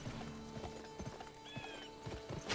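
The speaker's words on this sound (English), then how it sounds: "the horse, like, does this weird hop while it's running." A horse gallops in the video game Gun, its hooves clip-clopping in a quick uneven rhythm with a brief whinny, set against a busy game soundscape.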